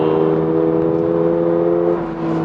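A Toyota GR86 engine holds a loud, steady high-rpm drone under throttle, the tone easing slightly near the end, with no voices.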